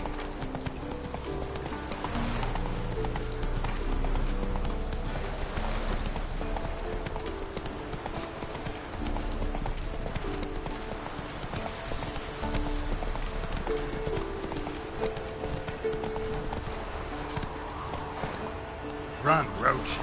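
Roach the horse gallops in The Witcher 3 game, rapid rhythmic hoofbeats pounding steadily throughout beneath background game music, with a rider's voice calling out.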